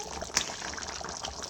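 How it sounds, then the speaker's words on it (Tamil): Water gushes briefly into a cooking pot in a home kitchen, one sharp splash early on followed by a softer, steady liquid wash, close and moderately quiet. "இது வந்து தண்ணி ஊற்றி ஃபஸ்ட்டு வேக வச்சிடணும்."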